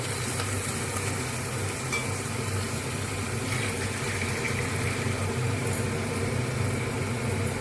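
Water poured into a hot pan of egg omelette curry brings up a loud, dense, continuous sizzle that holds steady and close the whole time, with no talking.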